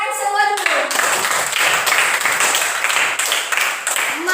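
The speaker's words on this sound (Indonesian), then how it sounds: "tepuk tangan semua dulu" A classroom of students claps and applauds together in a dense, steady burst of hands, loud and close, with voices mixed in.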